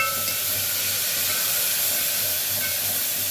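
Cumin seeds and curry leaves temper in hot oil for pongal, giving a steady, close, continuous sizzling hiss with no break and no talking.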